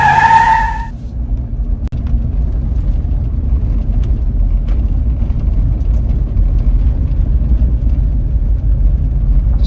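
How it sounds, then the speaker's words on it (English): A car on a test drive after a catalytic converter repair, with a steady low engine and road rumble running the whole time after a brief higher whine at the start. "Test drive commencing"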